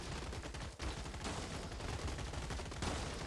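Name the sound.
machine gun fire in the video game Gladiabots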